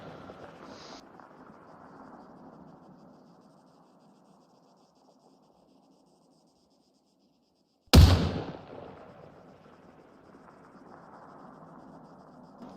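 A single sniper rifle shot in ARMA 3 cracks loud and sharp, then trails off in a long rolling echo, set against quiet wind and low ambient noise.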